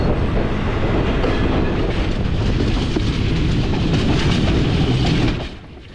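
A train rumbles loudly along the Sri Lanka railway near Nine Arch Bridge, heard from an observation coach as a steady roar with rhythmic wheel clatter, dropping away suddenly near the end.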